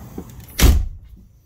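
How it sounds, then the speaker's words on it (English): A single solid rear door of a 2007 GMC Duramax 4x4 ambulance converted into a camper shuts with a short, heavy thud and a brief rattle, close by, with quiet surroundings. "So we'll close this door."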